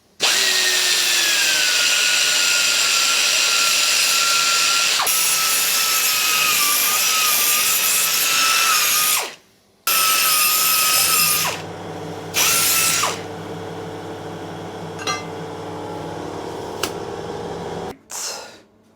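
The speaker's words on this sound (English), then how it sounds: "let's get all the burrs off the inside of this before we get it all tacked together." A power tool whines steadily while deburring the inside of a cut metal pipe for a BMW project car. It runs loud and close for about nine seconds, stops, then returns in shorter bursts with a few metallic knocks.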